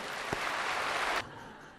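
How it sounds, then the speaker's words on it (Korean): A church congregation claps during a sermon, giving a short burst of dense, fairly faint applause that cuts off abruptly after about a second. "박수 한번 하십시다."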